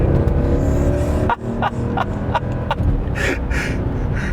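Mercedes R63 AMG minivan with a 500-horsepower engine accelerating, a loud continuous engine drone with a brief dip then rising again, heard from inside the cabin.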